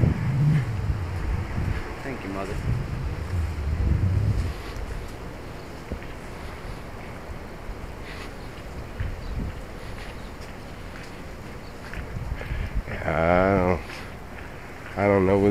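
Wind blows outdoors as a soft, steady rush of microphone buffeting, with faint gusts rising and falling and brief voices breaking through near the end.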